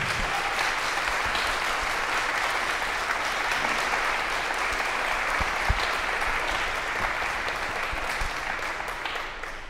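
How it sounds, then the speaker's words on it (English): An audience at a fortepiano inauguration pre-concert talk applauds with dense, sustained clapping that stays steady for the whole stretch, then fades slightly at the end, without any voices over it. "Let's just give him another round of applause."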